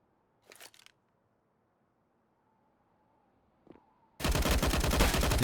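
An AUG rifle fires in Counter-Strike during a competitive match on the Nuke map. A loud sustained burst of rapid shots kicks in suddenly after a mostly quiet stretch. The burst is preceded by a couple of brief sharp bursts.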